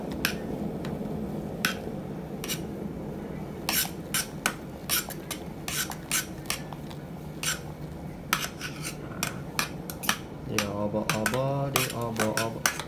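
A fork clinks and scrapes against a cooking pot of Indomie noodles, with scattered sharp metallic taps over a low simmering background, then a brief voice near the end.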